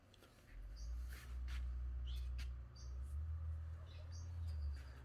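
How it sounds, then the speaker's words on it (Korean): Faint, high bird chirps sound sporadically indoors in a plant house among orchids, over a steady low hum, quiet and somewhat distant. "저 안에 새소리도 나네"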